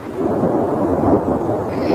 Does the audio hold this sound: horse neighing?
no